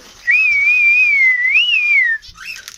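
A person whistles to call pigeons for feeding: one sustained, gently wavering tone that lasts about two seconds, close and clear, followed by a short second whistle.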